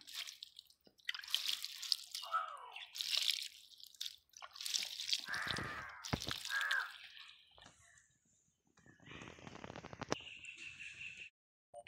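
A Hemigraphis plant in a pot being watered, with irregular splashing and trickling of water into the soil, soft and close. Bursts come and go in patches with brief quiet gaps, and faint outdoor sounds sit in the background.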